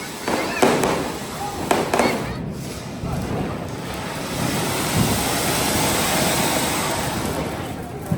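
Diwali firecrackers burst outdoors during a night celebration in Surat, with sharp cracks early on over a dense, continuous roar of distant explosions and crackle.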